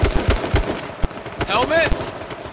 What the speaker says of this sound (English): there's a guy shooting at me left side